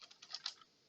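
A few soft, close keystrokes on a computer keyboard, a quick cluster of light clicks in under a second, faint and alone.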